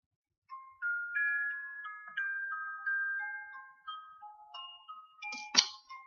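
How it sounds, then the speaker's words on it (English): A phone chimes with notifications, a quiet run of bright electronic tones stepping up and down in short melodic bursts, ending with a sharper tinkling ping, alone with no talk. "Got notifications again."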